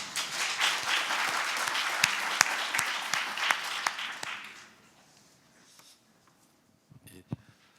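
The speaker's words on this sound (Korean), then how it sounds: "발표를 박수로 청해 듣겠습니다." Audience applause at a guardianship conference, a steady round of clapping that lasts about four seconds, fades away, and leaves near silence with a few faint knocks.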